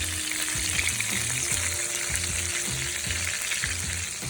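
Steak fries in a pan with a continuous, even hiss and crackle, close and steady, with a low periodic rumble underneath and no speech.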